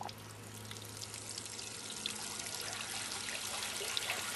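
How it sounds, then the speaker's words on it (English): Water streams steadily from a solar-powered pump header, a continuous broadband trickling and pouring rush that holds at an even level throughout with no talk. "the water is circulating out"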